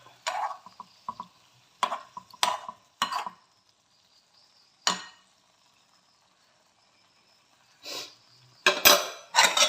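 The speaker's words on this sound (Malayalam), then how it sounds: "ഒന്ന് ഇളക്കി വെച്ച് കൊടുക്കാം." Anchovies being stirred with salt in a cooking pot. Scattered metallic scrapes and clinks of a utensil against the pot come in short bursts with quiet gaps, close by and with no talk.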